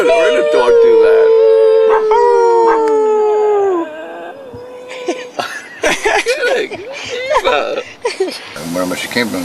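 A rescue dog lets out a long, drawn, song-like howl close by, then people laugh and chatter while the dog adds short yelps and vocal bursts.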